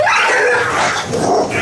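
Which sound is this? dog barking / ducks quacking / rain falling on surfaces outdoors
dog barking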